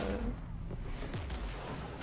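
Gunfire from the Mass Effect 3 battle on Rannoch, a dense low rumble of shots and distant blasts that holds steady through the whole stretch.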